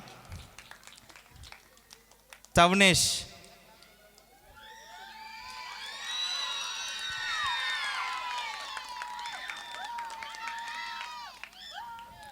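A church congregation at a children's VBS final in Pattabiram breaks into sustained applause and cheering after a brief loud burst, the clapping swelling and then trailing off with voices mixed in.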